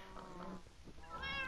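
Cats in the Minecraft video game meow twice in quick succession, short and close, with a brief pause between the calls.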